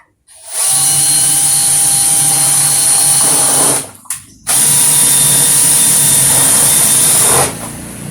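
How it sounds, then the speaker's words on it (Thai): A loud electric drill mixes foam powder into liquid, whirring steadily for several seconds, cutting out briefly, then spinning up again and running on before stopping. "ผงฟองลงไปแล้วนะครับก็ใช้สว่านฟัน"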